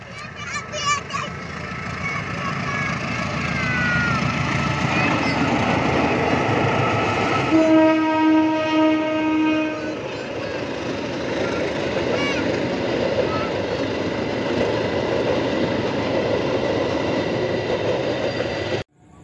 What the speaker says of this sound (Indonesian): Dadah kereta api bang.